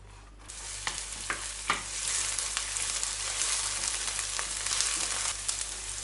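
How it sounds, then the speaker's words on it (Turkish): Onions sizzle in hot oil after a quiet start, a dense steady crackle broken by a few sharp stirring scrapes. "Isındığı gibi yemeklik doğradığımız soğanları koyup kavuralım."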